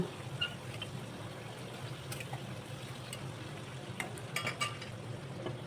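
A fish bone and potato curry bubbling in a pan after water is added, a soft, low simmer with faint sizzle and a few light clinks of stirring.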